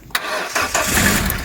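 A car engine cranks and catches with a Newell Carmate 12000mAh jump starter connected, the starter whir breaking into a steady mid-pitched running engine, close and loud.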